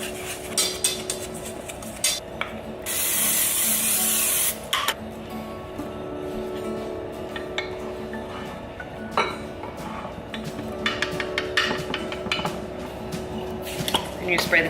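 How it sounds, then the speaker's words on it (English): Cooking oil sprayed from a can over batter in a kitchen, a steady hiss lasting about two seconds amid clinking dishes, utensil taps and light clatter, up close. "And you spray the top with oil as well."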